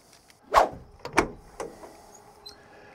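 An old Jeep door makes two sharp clunks in quick succession, followed by softer rattles and a faint click as the door is worked, close and fairly loud.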